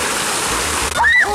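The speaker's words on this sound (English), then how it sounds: "you can see a nice big brick fountain" Water from the spouts of a large stone and marble fountain at Peterhof Palace rushing and splashing loudly and steadily, with a brief chirpy tone near the end.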